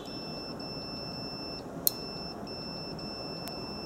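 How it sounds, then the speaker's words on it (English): A multimeter beeps once during a continuity check on an ignition coil relay, a brief sharp tone against a steady quiet hum, with a faint second blip near the end. "And when they do make a connection, we'll hear an audible alert."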